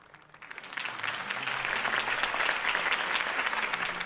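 Sustained crowd applause and cheering in the Batman Telltale video game, swelling quickly after a quiet start and holding loud and steady, with a faint voice beneath.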